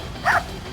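A single short bark from a dog as it races off into the woods on a December day in northern Minnesota, one brief mid-distance yelp over faint background noise.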